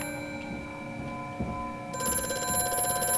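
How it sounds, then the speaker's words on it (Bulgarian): An old telephone rings repeatedly inside the eerie mansion of Amnesia: A Machine For Pigs, its steady bell tones sounding over a low ambient drone, with the ring growing brighter and busier toward the end. "Продължава да ни се обажа по телефона това."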